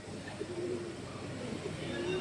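Flying-breed pigeons and their chicks, kept for sale in Thiruvananthapuram, coo softly in low repeated calls, faint against a quiet background hum.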